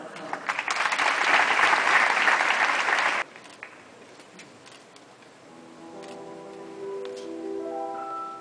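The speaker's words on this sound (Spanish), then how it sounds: "Un fuerte aplauso." Audience applause following the introduction of the band at a habanera concert, loud and dense for about three seconds, then cutting off abruptly into a quieter hall where a soft instrumental tune begins.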